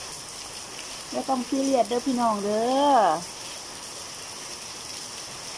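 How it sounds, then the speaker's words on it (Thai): Afternoon rain falls in a steady, soft hiss across the whole stretch, with a voice speaking briefly over it near the middle. "ประธานเอาบรรยากาศฝนตกในยามบ่ายแก่ๆมาฝากค่ะ"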